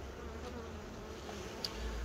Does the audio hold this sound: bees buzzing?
yes